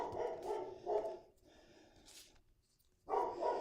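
A dog barks in short bursts indoors, a couple of loud clusters with a quiet pause between them.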